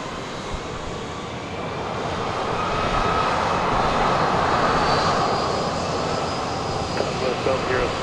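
A Southwest jet takes off from runway 31 right at Dallas Love Field at night, a broad engine roar that swells and holds steady in the distance, with faint radio voices near the end.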